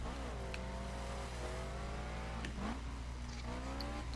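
Car engine in The Crew racing game accelerating hard, with steady rising harmonic engine tones, a brief gear-change dip midway, and a continuous loud drone throughout, with no talking.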